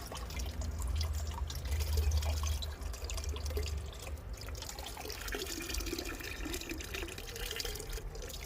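Water trickles and drains steadily through a kitchen sieve as soil is filtered to extract clay, a continuous close, wet splashing flow with no voices.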